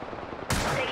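Automatic gunfire in the Apex Legends video game, a rapid burst erupting halfway through a one-second moment after quieter rattling, close and sharp.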